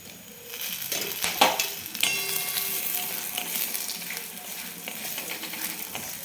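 Onion, coconut and chili frying in a little oil, stirred in a pan: a sharp burst of sizzle as they land, then a steady crackling fry with occasional utensil clinks, close and without talk.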